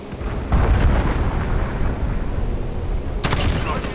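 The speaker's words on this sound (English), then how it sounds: "Allied cruise missile away." Cruise missile strike in Call of Duty: Modern Warfare, a loud rumbling blast that rolls on for seconds, then a second sharp burst near the end.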